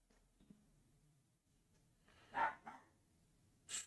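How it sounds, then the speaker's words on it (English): A dog barks outdoors a few times, two short close barks followed by a third after a pause, all distant and muffled against a quiet background. "I don't know if you guys can hear my dog outside,"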